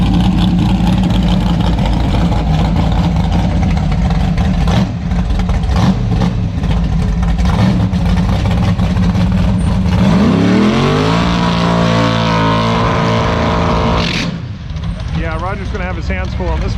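A big-tire Camaro drag racing at the strip, its engine idling and then revving up through rising, pitch-climbing pulls, loud and close under an excited commentator's voice.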